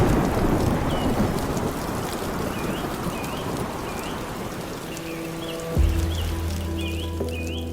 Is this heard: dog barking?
no